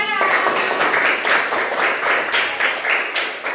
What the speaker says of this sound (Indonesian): Tepuk tangan untuk kelompok P